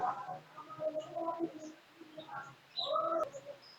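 A colony of budgerigars in a Dhaka aviary gives off faint, busy chirping and warbling, a steady twittery murmur with brighter chirps near the end.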